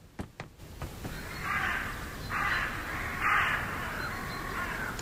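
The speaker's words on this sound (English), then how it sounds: "Oh my goodness, the birds are annoying." Crows cawing in the video game Hello Neighbor 2, several harsh caws repeating at intervals over an outdoor ambient bed, moderately loud and without talk.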